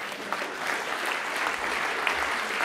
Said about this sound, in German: Sie sind nicht die Einzigen, die dafür klatschen.